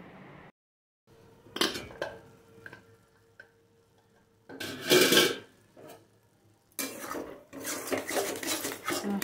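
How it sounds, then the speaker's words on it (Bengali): Spice paste with a splash of water being stirred in a pan for potato curry, giving intermittent scraping and clinking bursts of utensil on metal with brief pauses between strokes, no talking. "দিয়ে আবারও একটু ভালো করে মশলাটা নাড়াচাড়া করে নিচ্ছি"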